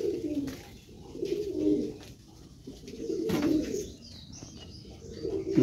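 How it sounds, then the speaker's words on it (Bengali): Fancy pigeons coo in a loft while feeding, several low throaty coos repeating in slow swells, close and clear, with light chirps and a brief wing flutter. "আর এদিকে পায়রাগুলো সব খাবার খাচ্ছে"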